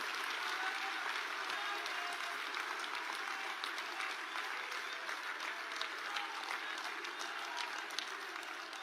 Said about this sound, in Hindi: सबसे पहले मैं अपने यशस्वी प्रधानमंत्री जी का तालियों की गड़गड़ाहट के साथ उनका स्वागत करता हूं